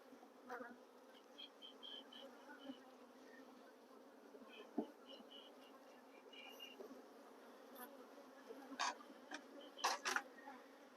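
Swarm of African derived bees buzzing around a hive, a continuous low droning hum with individual insects flying close past in brief louder whines, soft overall with a few faint clicks.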